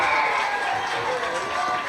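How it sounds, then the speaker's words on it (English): Fans clap and cheer from the stands at a high school football game, a steady distant crowd wash of applause with a voice talking over it throughout. "Well, you can hear the applause from the fans"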